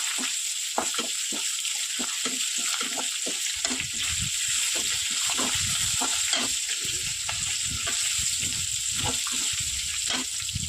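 Green chillies frying in oil in a pan, a continuous bright sizzle with crackles and pops scattered through it, close and steady, no voices.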